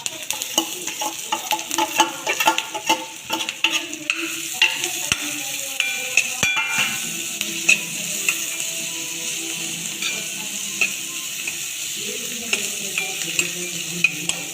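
Onion fries in a pan for aloo paratha filling, a steady sizzle broken by frequent rhythmic stirring scrapes and clicks of a spatula, close and without speech.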